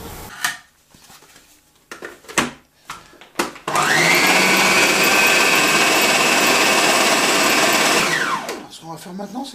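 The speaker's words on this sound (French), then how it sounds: "Maintenant, on va les passer au mixeur avec le reste des ingrédients." An electric blender whirs loudly for about four seconds, blending tapenade ingredients for a Provençal recipe, preceded by knocks and clatter of kitchen handling and ending in a winding-down whine.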